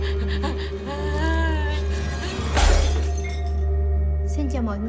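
Glass shatters in a horror film scene, a sharp bright crash midway through amid tense music with gasping voices before and after.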